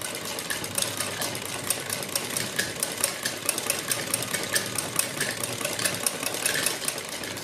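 A sewing machine stitches a kurti neck with a fast, even mechanical chatter that runs close and continuous for several seconds, with no talk over it.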